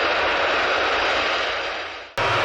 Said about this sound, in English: Pan Am continues to taxi towards the Charlie 4 exit at around 6 knots.